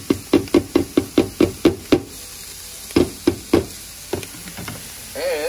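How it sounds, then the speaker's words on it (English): Peppers and onions cook down with ground meat in a pot of Texas-style chili, a spoon knocking steadily against the pot in quick bursts over a soft, faint sizzle. "We're gonna dump in these peppers and onions. Let those cook down."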